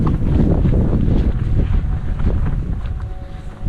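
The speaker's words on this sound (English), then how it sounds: "It's very windy up here" Strong wind buffets the microphone on Stanage Edge, a gritstone ridge in the Peak District in winter, with a loud, continuous low roar that gusts and eases throughout and no voices.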